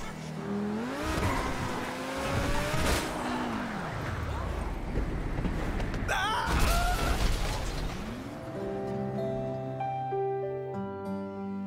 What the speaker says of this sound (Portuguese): Vendo a velocidade que o carro alcançava, ele acelerou até se chocar de frente com mais um carro.